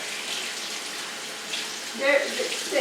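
Running water rinses the roots of a Dendrobium orchid, a soft, steady hiss of flow that grows a little louder and splashier toward the end.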